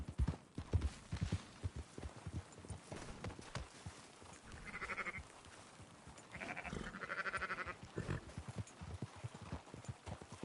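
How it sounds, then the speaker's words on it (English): Sheep bleat in the video game Red Dead Redemption 2, with a few short calls in the middle and later part over soft game ambience and faint hoof and movement sounds. The sound is quiet overall. "Marston, why don't you leave the sheep to me?"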